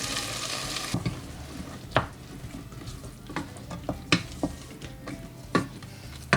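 Red beans stirred into a sizzling pan with tomatoes for Ugandan katogo, a steady frying hiss under scraping stirs and sharp spoon knocks against the pan, close and fairly loud.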